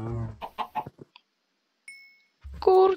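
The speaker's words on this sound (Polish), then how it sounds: "Kurczak, jej!" Minecraft chicken clucking in a video game, a few short clucks, with a person talking around them.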